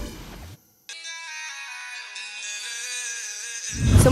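A melodic phone ringtone plays alone, a short pause breaking its electronic tones, with a loud burst of noise at the end.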